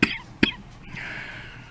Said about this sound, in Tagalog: Tingali tungod ni sa akong ubo.